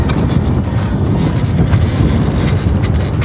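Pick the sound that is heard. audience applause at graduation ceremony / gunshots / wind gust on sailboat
wind gust on sailboat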